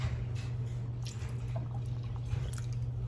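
Water being poured into a pot of Kerala-style chicken stew made with coconut milk, a soft continuous splashing and trickling over a steady low hum, with a few faint drips and no voices.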